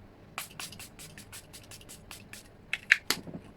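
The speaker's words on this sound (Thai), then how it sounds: "สุดท้ายฟินิชลุกนะฮะ ด้วย สเปรย์น้ำแร่ Intuit Men" Intuit Men mineral water face spray hisses out in a quick series of about a dozen short, close bursts, with a few louder puffs near the end and no talking.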